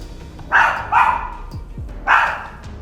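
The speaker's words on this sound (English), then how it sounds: "The dog kept barking at different corners of the room" A dog barks repeatedly indoors, three loud, sharp barks spaced about a second apart, with a soft whimper between them in a quiet room.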